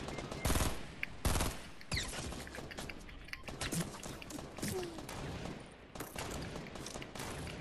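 Gunfire in Fortnite comes in bursts of sharp shots and rapid volleys, loud and close, crowded with other game sounds and no clear speech.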